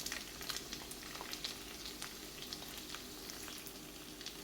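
Chicken for a green masala fry sizzles in a pan with a continuous crackling and popping sizzle at moderate level, no voices over it.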